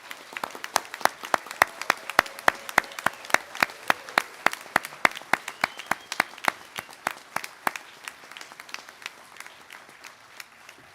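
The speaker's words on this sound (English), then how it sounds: "I invite everyone to give a final special round of applause to all our graduates." Graduates at a graduation ceremony receive applause, but it comes as a single, steady, rhythmic clap repeating evenly and fairly close, with faint room noise beneath.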